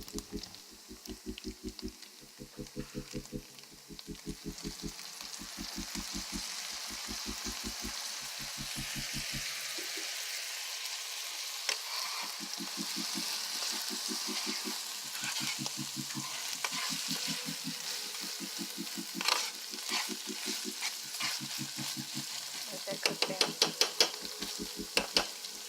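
Vegetable lasagna sauce with balsamic vinegar sizzling in a skillet, a continuous crackling fry with stirring scrapes. A rhythmic low thumping plays underneath through the first half and returns later.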